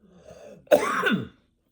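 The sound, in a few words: coughing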